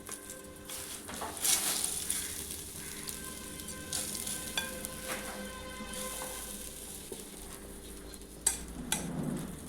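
Lightly fried cashews and raisins are tipped into basanti pulao in a pan and stirred, giving a soft steady sizzle with scraping spoon strokes and a few clinks of the utensil close by.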